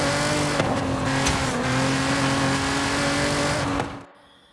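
A car engine drones steadily at high revs with tire noise in Forza Horizon 5, a continuous loud roar that cuts off abruptly near the end.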